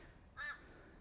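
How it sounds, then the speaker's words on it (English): A crow gives one loud, harsh caw, close by, over a quiet background with no voices. "we've been joined by a very loud, very noisy crow"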